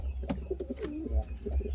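An Indian fantail pigeon gives a few soft, low cooing calls, close by and fairly quiet, with a faint rustle in the background.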